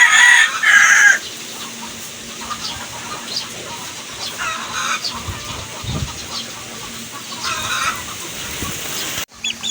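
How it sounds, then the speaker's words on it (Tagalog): A coop full of chicks and chickens in very hot weather gives off loud, continuous peeping and clucking, busiest in the first second, with a close burst near the end. "ito po yung sitwasyon ng aking mga sisiw ngayon"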